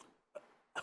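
A person coughs in short, rough bursts, three spaced across under a second, close and fairly quiet with no talk.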